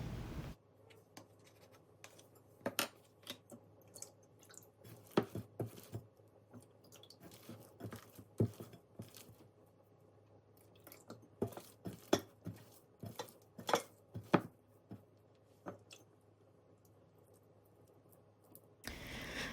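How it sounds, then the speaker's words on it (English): Sourdough dough mixed by hand in a bowl for a viral croissant sourdough, giving irregular wet squishes, scrapes and knocks against the bowl, close and fairly quiet with scattered sharper taps. "I will then start using my hand to mix the dough to a shaggy consistency"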